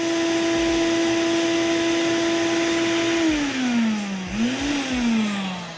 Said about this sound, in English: this vacuum even catching anything?